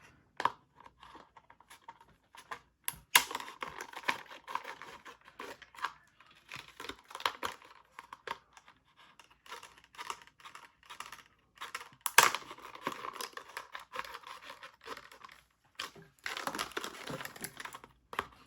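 Scissors snip and crunch through a stiff cup in irregular bursts, close up, with crinkling between cuts and no talking.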